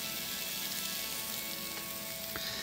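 Garlic browns in hot olive oil with a soft, steady sizzle and fine crackle, fairly quiet and continuous, with a couple of brief clicks and no talking.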